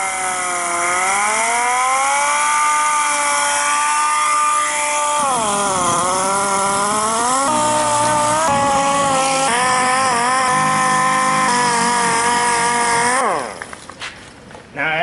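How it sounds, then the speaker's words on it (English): A power sander works steadily across a wet plastic car headlight lens during restoration, a loud continuous whine with shifting pitch as pressure changes, cutting off near the end. "then we'll start sanding away"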